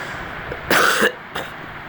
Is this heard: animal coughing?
yes